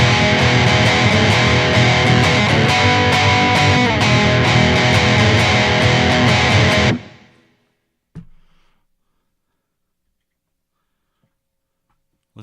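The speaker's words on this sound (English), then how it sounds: "This Strat sounds pretty good in that tuning." A Fender Stratocaster electric guitar in an alternate tuning plays dense, distorted strummed chords for about seven seconds, then stops abruptly. A faint short knock follows, and the rest is near silence.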